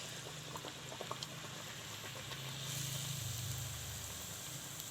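Potatoes frying in a kadhai of oil, giving a faint, continuous bubbling sizzle with small crackles and a slight swell partway through; no one speaks.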